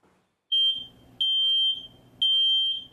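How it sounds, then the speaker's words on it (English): A smoke alarm beeps three times in a regular rhythm, each high-pitched beep sounding alone and close with brief quiet gaps between them. "check our smoke alarms to make sure that they're functioning appropriately"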